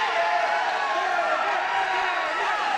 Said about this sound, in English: this crowd responding with Damian Dragon's latest offensive salvo